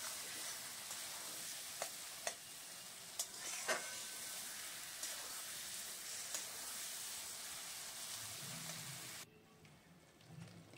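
Spice masala sizzles softly in a pan over a low gas flame for a Bihari-style chicken curry, a faint continuous hiss with small pops that cuts off near the end, leaving a low hum.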